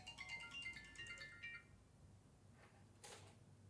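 Mobile phone ringtone chiming in a short melodic run of repeated tones for about a second and a half, then cutting off, followed by faint background sounds and a brief bright click.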